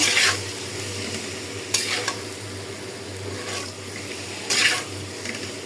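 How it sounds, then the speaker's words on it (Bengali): Eggs fry in a pan for a morning egg khichuri, a constant sizzle broken by several loud bursts of stirring and scraping spaced a second or two apart. "এখন আমি নামায়া ডিম বোনা করে ফেলি।"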